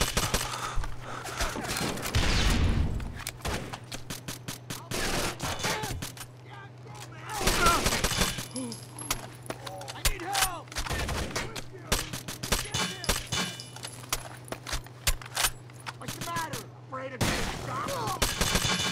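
Gunfire in the video game Tom Clancy's Rainbow Six: Vegas 2, with rapid automatic bursts and sharp single shots coming in repeated volleys over several seconds, loud and close, with some voices talking between them.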